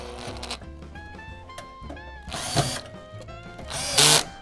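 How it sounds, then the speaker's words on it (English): Screws are driven into a computer power supply while a PC is assembled, with short whirring bursts of a powered driver, ratcheting clicks and two louder buzzing spurts near the end, close up with no talk. "now I'm gonna proceed and screw them in"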